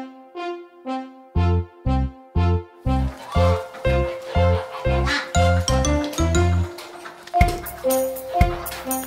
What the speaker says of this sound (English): The ducks, they go a quack, quack, swimming round in rings.